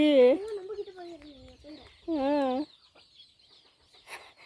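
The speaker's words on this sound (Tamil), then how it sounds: "அது சேவல் பாருங்க அது கோழி" Hens and a rooster in a village garden cluck and call in short bursts, two drawn-out squawking calls close by, then quieter scratching and faint clucks.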